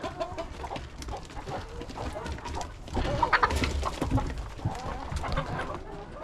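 Hens cluck steadily and close by in a farmyard coop during Sunday morning chores, a busy overlapping chatter that grows louder in the second half.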